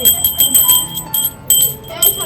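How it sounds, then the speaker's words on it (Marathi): A metal bell rings again and again in quick bursts, bright and close, with voices murmuring in the background at a tenement gathering preparing a groom. "वाजव घंटी वाजव घंटी वाजव वाजव वाजव वाजव घंटी वाजव"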